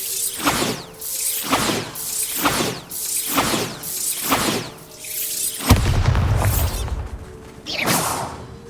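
Bombarda spell explosions in Hogwarts Legacy, a regular series of about seven booming blasts with whooshing swells and crackling debris, the last one heavier with a low rumbling tail.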